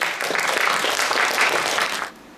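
A hall audience at a reading-competition award ceremony breaks into a brief burst of dense, even applause for the first-place winner, which fades out after about two seconds.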